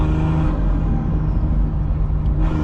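Interior of a BMW M240i with its B58 turbocharged engine under load, a steady loud droning roar with a rising whine of turbos spooling, continuous and close.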